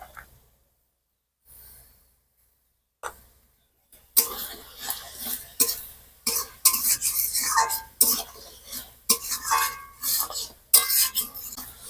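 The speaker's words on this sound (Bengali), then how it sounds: "ভিজিয়ে রাখা মশলাটি এবার এর মধ্যে দিয়ে ভালোভাবে কষিয়ে নেব।" Soaked spice paste being stirred and fried in a pan for an egg dish: after a mostly quiet start, repeated close scraping and clattering strokes of a spoon against the pan follow in an irregular rhythm.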